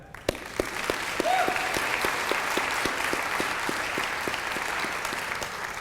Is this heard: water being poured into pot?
no